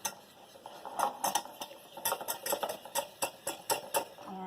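A utensil stirs sweetener into melted fat for a cinnamon cereal topping, giving a steady run of light scraping clinks against the bowl, fairly close and unaccompanied by speech.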